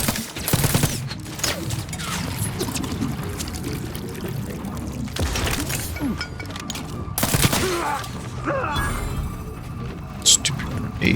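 Grenade blasts and gunfire in The Outer Worlds 2, several loud broadband bursts near the start and middle amid scattered shots, with in-game voices and background game sound between them.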